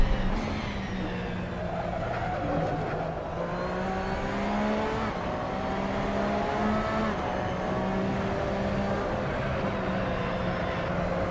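A Porsche engine in a racing simulator drones steadily and close, its pitch rising and falling gently as it works through slalom turns. No other sounds compete with it.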